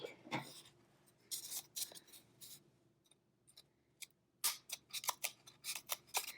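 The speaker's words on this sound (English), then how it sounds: "So now we're going to go ahead and we're going to cut away." Scissors snip through paper while cutting out a narwhal craft, a series of short, crisp close-up cuts in quick succession against a quiet background.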